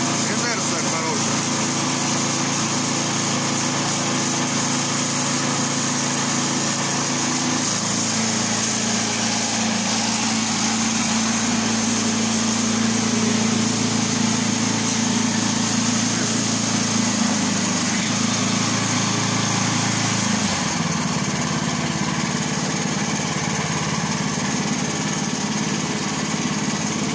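A petrol wood chipper engine runs continuously under test, a steady loud mechanical drone with shifting pitch and rattling vibration throughout, with no clear talk.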